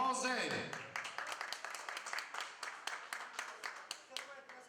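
Wedding guests clap in a steady rhythm, sharp claps repeating about four times a second, while voices and festive noise carry on underneath.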